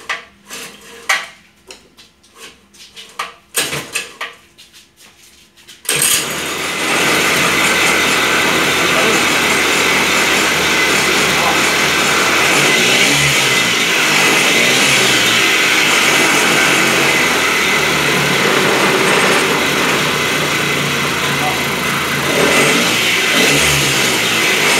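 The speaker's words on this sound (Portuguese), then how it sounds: "Então vai dar a aceleração do motor." A small motor on a homemade drift trike fires up after a few seconds of quiet handling noises, then runs and revs steadily and loudly close by, with the pitch rising and falling as the throttle is worked.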